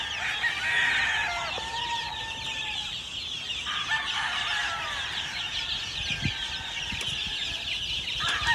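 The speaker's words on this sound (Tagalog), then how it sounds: "More than 400 chickens." Chickens on a game farm holding over 400 birds, a dense, constant chorus of clucking and overlapping rooster crows, with a few thumps and flapping sounds nearby.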